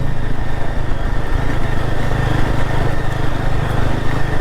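Yezdi Adventure 2023 motorcycle with a 334cc engine on a trial ride: a loud, continuous engine rumble with a pulsing low throb, close up and steady throughout, with no speech.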